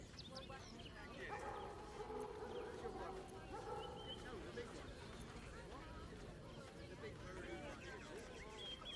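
Courier dogs in a kennel in the video game Baldur's Gate 3, yipping and barking with some whimpering, faint and set back beneath a voice talking over them.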